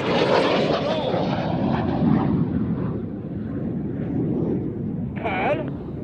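Red 6, a Red Arrows display jet at the Midlands Air Festival, roars past loudly from the left, its jet noise fading then swelling again, with commentary heard over it.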